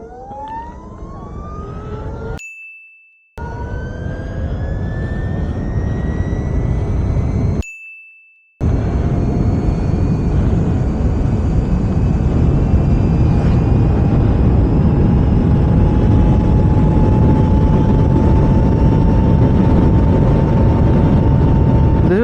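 An Ather Rizta electric scooter accelerates at full throttle, its motor whine climbing steadily in pitch over loud wind rush, with two brief cutouts early on.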